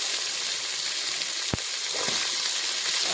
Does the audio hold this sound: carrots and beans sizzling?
yes